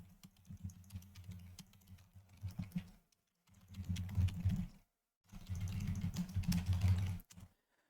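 Rapid clicking keystrokes on a computer keyboard come in three close bursts separated by brief silent pauses, fairly quiet and with no voice over them.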